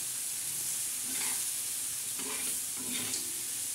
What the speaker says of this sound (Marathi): असं चांगलं हलवून घ्यायचं.